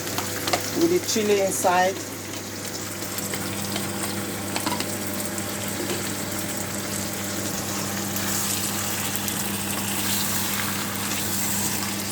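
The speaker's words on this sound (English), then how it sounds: "as it's frying now" Onions, peppers, leeks and sirloin beef fry in a pan for an African stew, a steady sizzle and crackle running throughout, with a brief stirring clatter near the start and a voice speaking briefly over it.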